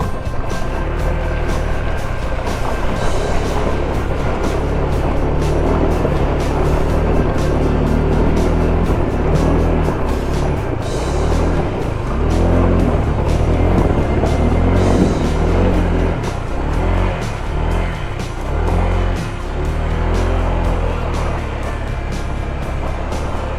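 Honda ADV 160 scooter crossing a river off-road, its engine note droning steadily and loudly over rushing, splashing water throughout.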